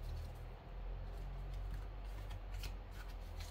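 Tarot cards being shuffled, a steady, close papery riffle and rustle sustained throughout against a low background rumble.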